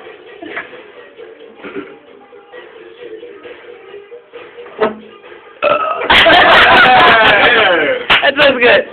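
A deliberate burp during a burping competition, coming after quiet, low talk as a loud, drawn-out croaking belch lasting a few seconds, followed by a couple of short trailing bursts.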